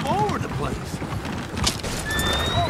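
A horse neighs in the Red Dead Redemption 2 video game, with whinnies and hoof clip-clops among a busy mix of game sounds, and people talking throughout.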